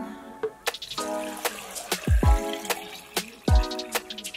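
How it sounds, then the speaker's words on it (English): Water pours and splashes into a blender cup in short bursts, with plopping and trickling sounds and a few sharp clinks, close by. "probably need less, pour the water in"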